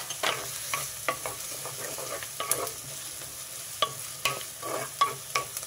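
Chopped green chilies frying in oil with lightly browned onions in a pan, giving a soft steady sizzle broken by repeated scraping and stirring clicks from a spoon, close and fairly quiet.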